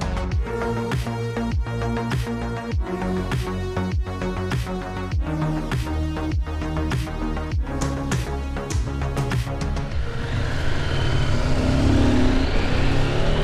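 A CFMOTO 800 MT motorcycle rides along a road, its engine droning steadily with a strong, continuous tone, joined near the end by a louder rush of wind noise.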